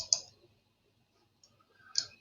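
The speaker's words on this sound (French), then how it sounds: "je clique sur numérotation" Two crisp, quiet mouse clicks about two seconds apart while working in Autopiste V17 software, with near silence between them.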